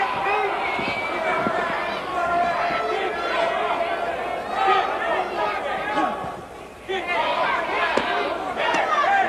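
A boxing crowd of about 4,000 in the Lake Charles Civic Center roars and cheers in surging waves after punches land, loud and continuous with shouts rising from the babble.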